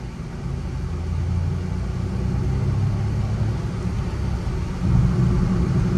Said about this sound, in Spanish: Vamos a acelerar y a escuchar el motor